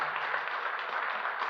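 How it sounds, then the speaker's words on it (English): A panel-session audience claps in a steady, dense burst of applause for the speakers, fairly loud and close, with no talk over it. "A big round of applause for Ephraim, Jody,"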